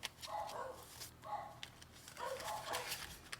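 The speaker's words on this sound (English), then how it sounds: "And my dogs are barking." Dogs barking in the background of a home, a few short bursts of barks repeating at a moderate distance, fairly faint.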